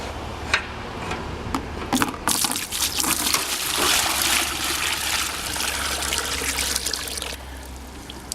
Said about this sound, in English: And here's our water. And I'm just gonna pour it over,